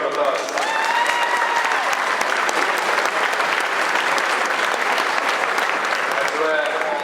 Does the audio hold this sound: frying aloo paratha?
no